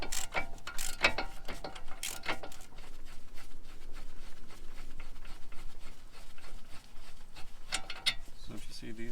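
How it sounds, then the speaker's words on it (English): Ratcheting socket wrench loosening special screws on the brake of a Mercedes CLA 250, with bursts of sharp clicking near the start and end and quieter mechanical handling in between. "we're going to open up these screws right here."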